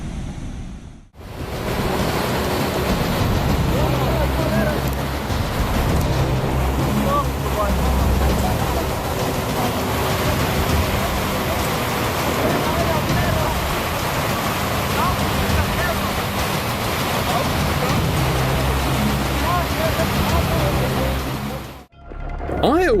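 Strong rushing floodwater surges loudly and continuously, a dense roar of churning water that washes away a structure, steady throughout with a brief dip near the start and end.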